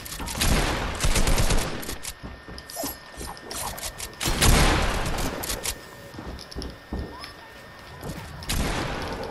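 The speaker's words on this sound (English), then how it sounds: "why are you shooting down like that?" Rapid bursts of Fortnite gunfire, including drum gun fire, rattle loudly in clustered volleys across the clip, with mechanical game clatter between shots and no talking.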